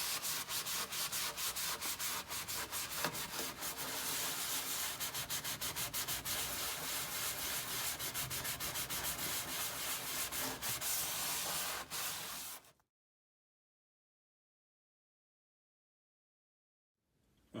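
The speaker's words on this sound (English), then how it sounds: "this is after a few minutes, some pretty heavy scrubbing" Heavy scrubbing of a rust stain on a stove, sink or bath with Barkeepers Friend, fast continuous rubbing strokes, close and steady for about twelve seconds before cutting to silence.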